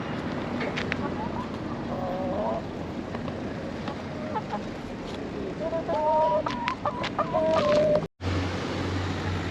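Chickens cluck and squawk intermittently amid a busy outdoor chicken market in Taşköprü, Kastamonu, Turkey, with faint voices and a brief cut near the end.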